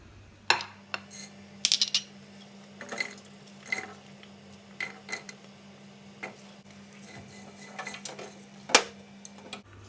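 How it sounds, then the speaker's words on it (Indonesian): Turmeric and other spices being dry-roasted in a pan, with scattered sharp metallic clinks and taps of a utensil against the pan over a low steady hum, close and otherwise quiet. "Nah, ini saya mau disangrai kunyitnya, nanti cukup dipotong 2 aja."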